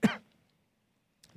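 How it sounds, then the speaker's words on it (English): A single short, sharp cough at the start, then near silence with a faint breathy sound at the end, no talking. "My using that voice makes me cough."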